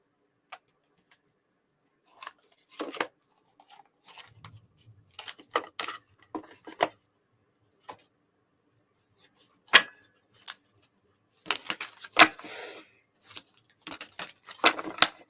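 Cards drawn from a Power of Surrender Oracle deck, with soft scattered taps, slides and flicks arriving in irregular bursts, close and fairly quiet, without any talking.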